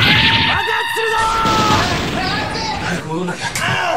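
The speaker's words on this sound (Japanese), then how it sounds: "ここだ、爆発するぞ。" An explosion in the video game Super Smash Bros. Ultimate bursts out loud and booming amid dense, continuous game effects and music, with a voice talking over it.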